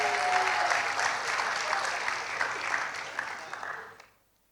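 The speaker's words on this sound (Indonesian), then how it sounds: "Kasih tepuk tangan boleh Pak Jeki dong" Steady congregation applause during a church anniversary worship service in Timika, a sustained full wash of clapping that fades out abruptly near the end.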